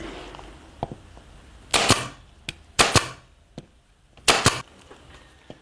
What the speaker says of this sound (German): Nach dem Ankleben tackert Reinhold Müller die 4 Ecken ordentlich fest